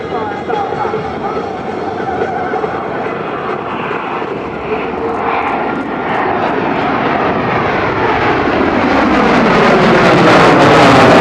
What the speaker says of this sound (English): He is bringing in the F111 for one final Dragon Pass.